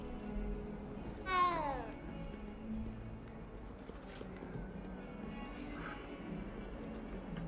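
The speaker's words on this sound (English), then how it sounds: "Whose cat is this?" A cat in the video game Hogwarts Legacy gives one clear, drawn-out meow early on, followed by quieter game ambience and a faint second call later.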